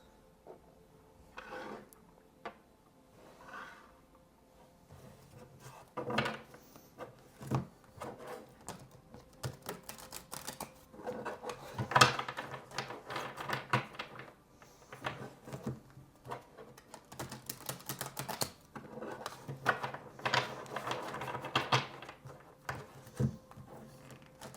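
A deck of guidance cards being handled and shuffled, with soft riffling, tapping and sliding card sounds coming in irregular clusters, close and faint, growing busier toward the end.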